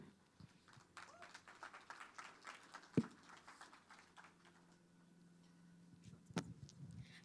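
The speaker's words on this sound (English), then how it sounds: "Yes, I heard your clap, guys." An audience at an outdoor housing handover ceremony at KEZA Riruta claps in scattered, uneven bursts, with a few sharper claps standing out, all mixed with background voices and crowd murmur.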